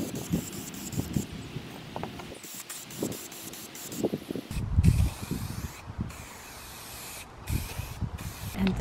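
Spray paint hisses onto a small plate or bowl outdoors, recoating a chipped dollar-store bird bath piece in a bright colour; several short bursts stand out over faint background rustle.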